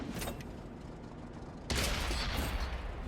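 A tank cannon firing in World of Tanks on console, during a match with an M46 Patton, lands as one sudden loud blast about halfway through and then a dense rumbling roar that carries on over the game's background noise.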